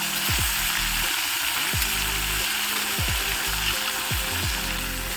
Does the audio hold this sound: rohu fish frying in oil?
yes